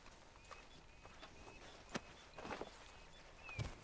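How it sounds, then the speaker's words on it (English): Faint hooves clip-clop at a slow walk on firm ground in the Red Dead Redemption 2 video game, several uneven steps with a soft bird call in the background and no talking. "Move, you stupid horse."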